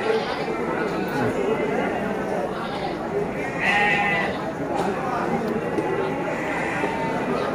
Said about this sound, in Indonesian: Domba Garut, domba tangkas.